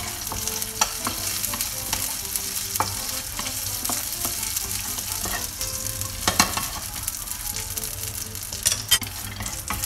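Hazelnuts and garlic frying in butter and oil in a pan, a dense close hiss of sizzling fat with frequent clicks and scrapes from stirring throughout, and no talking.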